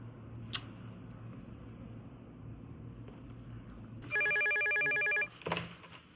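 A telephone rings once with a bright electronic trill lasting about a second, over a low background hum, followed by a brief clatter.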